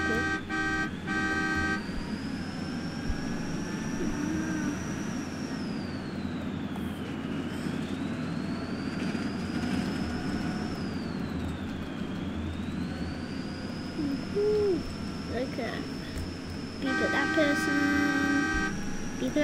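In the driving game BeamNG.drive, a bus horn sounds in short tonal blasts at the start and again near the end, over a steady engine and traffic drone with a rising and falling whine.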